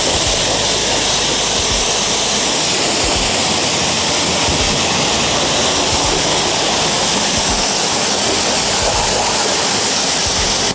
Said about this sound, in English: You want to rinse from the bottom up